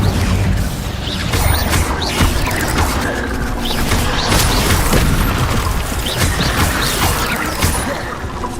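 The Incendio fire spell is cast in Hogwarts Legacy, a loud, sustained roaring whoosh with crackling bursts and a heavy low rumble that runs steadily at close range before easing slightly at the end.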